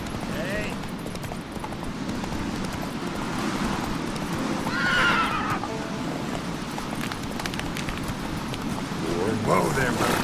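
Roach the horse in The Witcher 3 video game, galloping hooves under a continuous rumble, with a neigh near the middle and another at the end, while a person talks over it.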